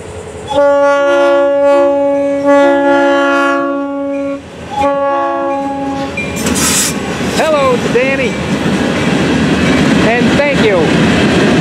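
FEC 920 freight train with locomotive 419 leading sounds a loud, multi-note horn in several blasts, then rumbles past close by with screeching wheels and clattering cars, voices mixed in.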